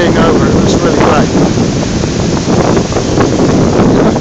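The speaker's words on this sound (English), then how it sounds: "I've got a nice offshore breeze which always cleans the waves up" Ocean waves rolling onto a beach at Crantock under a steady offshore breeze, with spray blowing off the crests; loud, continuous wind rush buffets the microphone over the broad wash of surf throughout.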